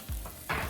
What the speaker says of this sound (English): we're gonna place it in the pan and allow these buns to toast up